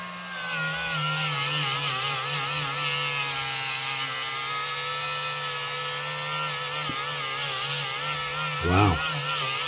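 A Dremel rotary tool fitted with a 180-grit attachment cleans the blades of a vintage Colonial 550 folding knife, giving a steady, close, whining motor hum with a wavering pitch and a short louder scrape near the end.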